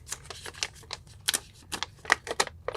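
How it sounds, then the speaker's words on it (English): Packing tape on a mail package being slit and torn open, a quick run of crisp ripping, crackling bursts up close. Quiet, with no talking. "I'm just going to open this tape up"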